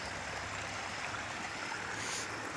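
Steady broadband rush of water gathering and flowing into a canal along the Murree motorway route, a continuous close wash with no breaks and no talk over it.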